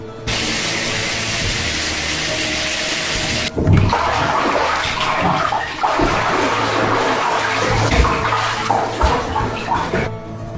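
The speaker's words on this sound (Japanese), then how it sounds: "とりあえずシャワーでも浴びて頭を冷やそうと思った。" A shower runs with a steady hiss of spraying water, then the sound shifts to uneven splashing as water strikes a body and surfaces nearby, loud and close throughout.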